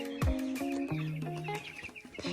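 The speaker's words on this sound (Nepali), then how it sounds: "यता चाहिँ निकै चल्लाहरू रहेछ" Short, close clucking calls from chicks, several in quick irregular succession with a few higher peeps mixed in, no talking.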